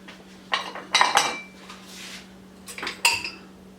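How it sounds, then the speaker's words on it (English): A whisk clinks against a bowl while sugar and milk are beaten together for BBQ cornbread, giving a few quiet, close metallic taps and rattles in short bursts with pauses between them. "just going to whisk that together just a little bit."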